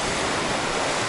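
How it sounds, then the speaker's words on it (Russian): Calm sea at a Sochi beach, a steady broadband wash of gentle waves and surf with some wind rumble, continuous and fairly loud with no voices. "Море сегодня спокойное достаточно"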